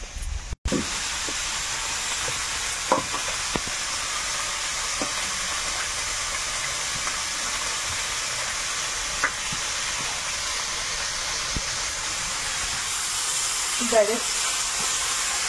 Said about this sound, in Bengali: বেগুন আর আলুটা ভাজা হয়ে গেছে